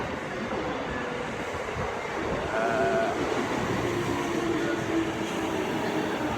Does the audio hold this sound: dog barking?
no